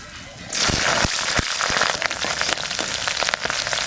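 Cumin and green chilli hit hot mustard oil with a sudden loud sizzle that keeps crackling and spitting unevenly, with someone talking over it.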